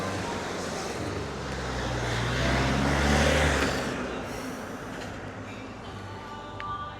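A vehicle accelerates through road traffic, its low engine rumble swelling to a peak mid-clip and then fading, with steady traffic noise continuing underneath and no one speaking.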